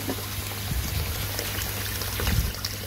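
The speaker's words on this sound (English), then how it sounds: "Just top this water up." Water is poured to top up an aquarium tank with a moving bed filter, a soft steady trickle and splash sounding fairly close over a constant low hum.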